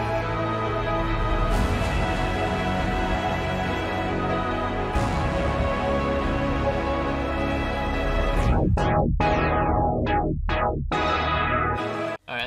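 Beat melody soaked in reverb and EQ, a dense washy synth texture sustained throughout, with filter sweeps near the end before it cuts off abruptly.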